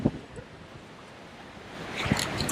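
Wind and waves on a beach make a soft, steady wash and hiss that swells a little toward the end, with faint gusts thumping the microphone.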